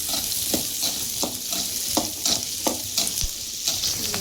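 Small shallot-type onions sautéing in oil in a pan for a spicy fish curry, a steady sizzle with regular scraping stir strokes roughly every half second, close and moderately loud.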